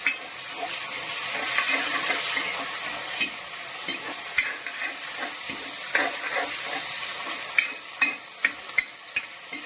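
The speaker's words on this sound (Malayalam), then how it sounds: "നന്നായിട്ട് ഇളക്കി കൊടുക്കാം" Spicy chicken curry being stirred in a pan, a continuous bright sizzle with frequent scraping of the spoon and a run of crisp clicking taps toward the end, close and alone.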